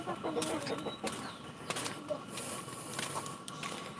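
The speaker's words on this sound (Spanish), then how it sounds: "hay un par de gallinas" A couple of chickens clucking at a rural countryside house, scattered faint clucks over steady outdoor background noise.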